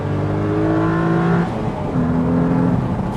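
Renault Clio V6 engine revving hard in first gear, heard from inside the car: a loud, rising engine tone that briefly dips at a gear change before climbing again.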